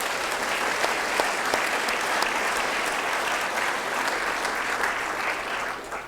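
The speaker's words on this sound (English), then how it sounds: "Let's give them another hand of applause." A room full of people at a city's State of the City address applauds the Rotary Club, a thick, continuous roll of clapping at steady loudness throughout.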